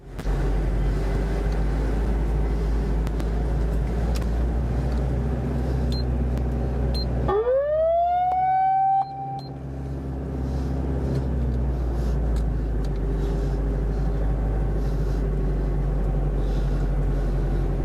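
A 1996 Toyota Dyna six-seater truck with a 5-speed manual being driven, its steady low engine rumble continuous throughout, with a brief rising whine partway through.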